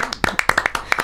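A small group claps in quick, uneven bursts during a casual podcast recording. About nine close, sharp claps spread over a second, with no voices over them.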